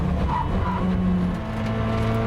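A turbocharged Koenigsegg Jesko hypercar accelerating hard, its engine rising in pitch with tire squeal and a sweeping, roaring pass, loud and close with no talk over it.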